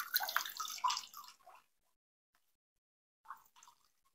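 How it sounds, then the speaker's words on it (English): Water splashes and drains through a pot of chunky aroid mix, a brief trickling pour followed by silence and then a few faint drips and splashes. "When I water this now, like there's not going to be much water actually retained within the pot. Most of it is just going to drain straight out."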